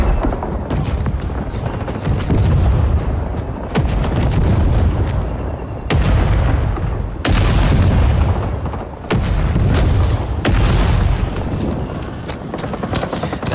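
Spooky gunship support fire in Rising Storm 2, heavy booming rounds and explosions landing in loud repeated waves with brief gaps between them.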